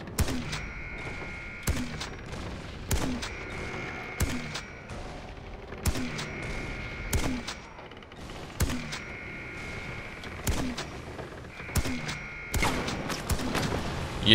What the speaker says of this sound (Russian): У меня не пулемет, у меня гранатомет.